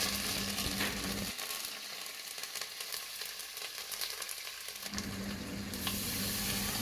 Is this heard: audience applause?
no